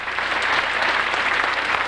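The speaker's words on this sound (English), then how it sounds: "How about a round of applause, ladies and gentlemen?" A steady burst of audience applause at a plaza reopening celebration, dense clapping from a crowd filling the short stretch evenly at moderate loudness.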